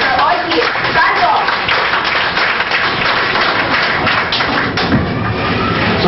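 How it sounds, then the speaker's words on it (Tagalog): A large audience breaks into loud, sustained applause at a business opportunity presentation, with dense clapping running steadily for several seconds without a pause. "Bigyan natin siya ng isang malakas na palakpak."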